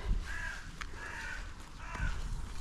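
Crows cawing while someone picks blackberries outdoors, three harsh calls spaced about a second apart, fairly faint and distant over quiet rustling background.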